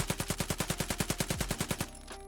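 Rapid full-auto bursts from a UMP45 submachine gun in the shooter game Escape From Tarkov, about fifteen sharp evenly spaced shots in a fast steady rhythm, then an abrupt stop leaving a faint tail.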